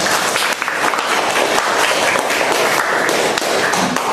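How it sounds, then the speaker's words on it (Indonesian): University class of students applauding together, a dense burst of clapping heard close and loud throughout, with no talk over it. "kita tepuk tangan buat semuanya."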